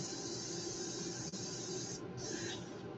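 An airbrush sprays iridescent ink onto a fishing lure, a steady close hiss that holds for about three seconds with a brief dip partway through.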